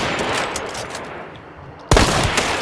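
Video game gunfire for a headshot: a sudden loud burst of shots breaks in near the end after a stretch of quieter background noise.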